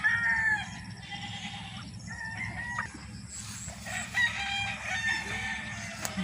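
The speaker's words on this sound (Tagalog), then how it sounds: "Malalaking manok." Big chickens on a rainy, muddy farm crow and cluck at a moderate distance, with several rooster calls rising over a steady bed of background clucking and farm noise.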